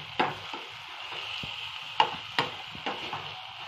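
Dried shrimp (karandi) sautés in a pan over raised heat, a steady sizzle broken by several sharp scraping and tapping strokes of a spoon against the pan.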